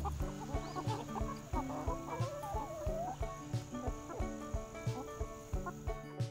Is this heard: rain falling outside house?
no